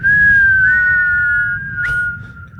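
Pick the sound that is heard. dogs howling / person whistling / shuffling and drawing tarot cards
person whistling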